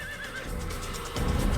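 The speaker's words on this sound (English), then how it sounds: "like how my horse attacked them" A horse whinnies in the Assassin's Creed video game, a short high neigh close by, with hoof clatter and game background sound beneath it.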